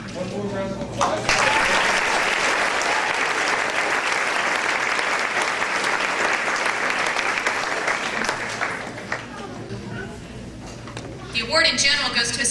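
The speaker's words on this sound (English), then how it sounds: "One more round of applause." Sustained applause from a seated audience at a 2009 school graduation ceremony fills the hall steadily for several seconds, with a voice speaking briefly before and again as the clapping fades.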